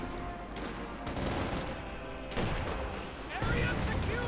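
Dense battlefield gunfire from the Company of Heroes 2 game, with rapid machine-gun bursts, rifle shots and heavy impacts layered continuously and loudly, mixed under a commentator talking over the action.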